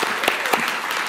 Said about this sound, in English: since you're clapping